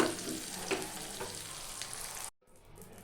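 Spices sizzling and crackling in hot oil as a tempering for kuzhambu, a steady close frying hiss with a few stirring scrapes, cut off abruptly near the end, then a fainter sizzle returns.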